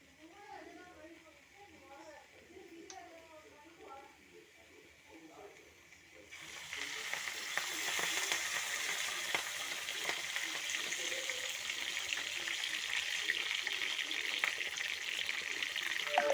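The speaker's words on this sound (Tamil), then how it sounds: "இப்போ நான் சுத்தமான தேங்காய் எண்ணெயை ஊற்ற போகிறேன்" Pure coconut oil, partly solidified from winter cold, is poured into a pan of dried herbs for homemade herbal hair oil; someone talks first, then a loud, steady hissing sizzle takes over.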